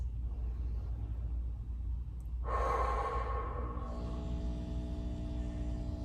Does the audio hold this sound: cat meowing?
no